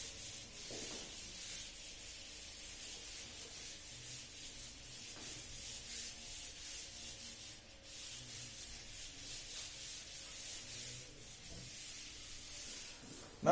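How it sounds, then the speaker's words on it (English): A blackboard is wiped with an eraser in repeated rhythmic rubbing strokes, a soft dry scrubbing that continues steadily for several seconds with no talking. "So now I will rub out this problem."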